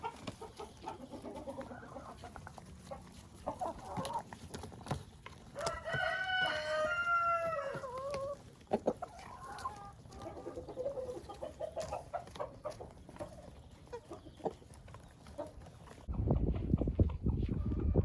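Hens cluck and murmur off and on in a backyard chicken coop, a rooster crows once clearly in the middle, and a burst of loud rustling comes at the end.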